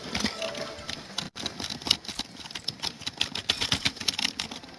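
Keyboard keys click rapidly and unevenly during Fortnite play, a dense run of close, sharp taps with faint game sound underneath.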